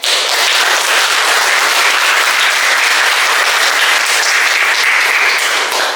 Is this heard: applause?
yes